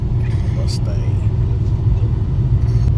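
Deep, steady engine rumble from a Ford Mustang crawling in crowded Dream Cruise traffic on Fort Road, a close, continuous low drone with faint voices over it.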